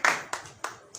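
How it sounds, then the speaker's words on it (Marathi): Hands clap at a political rally: four sharp, evenly spaced claps that are fairly faint and sparse, with no other sound between them. "त्यांच्यासाठी टाळ्या वाजवा"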